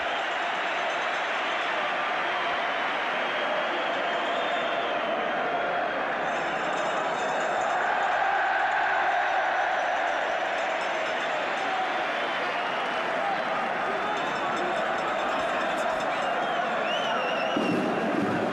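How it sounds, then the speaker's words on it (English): Aston Villa supporters shouting and chanting in a packed stadium at the 1975 League Cup final against Norwich City, a dense, continuous roar of many voices that swells in the middle and carries on steadily throughout. "the Villa crowd are shouting, "We want Saunders.""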